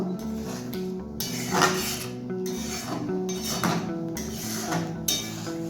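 Spinach and moong dal with peas and a slit green chilli get stirred in a pan, a spoon scraping and rubbing in repeated strokes over steady background music.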